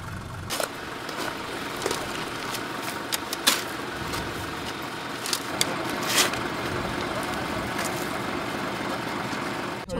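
Truck engine running steadily while stuck in mud on a Mekong riverbank, a continuous mid-pitched rumble close by with occasional knocks and thumps, no talking.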